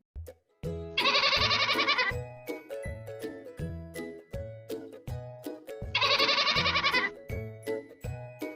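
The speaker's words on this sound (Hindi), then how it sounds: "राक्षस ने हवा में से एक बकरी को हाजिर किया और शंभू को दे दिया।" Goat bleats twice in an animated Hindi comedy story about a magical goat, each a loud, quavering bleat about a second long, over a rhythmic musical background with low beats and chimes.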